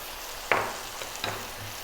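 Garlic ginger paste frying in a pan for lamb curry, giving a low background sizzle broken by two brief bursts of hissing and scraping as the paste is stirred, close and moderately loud.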